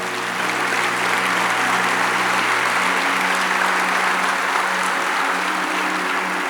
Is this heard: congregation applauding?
yes